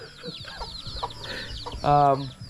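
Hens cluck softly with faint chick chirps and a low voice in the background, then one louder, sharper hen call near the end.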